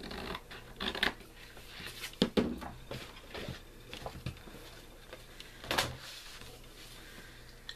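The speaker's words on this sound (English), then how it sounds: "I'm going to cut this out." Scissors snip through vintage paper in a quiet crafting setting, producing scattered crisp cuts and rustles, with a few sharper snips near the start and the middle, close and soft, with no speech.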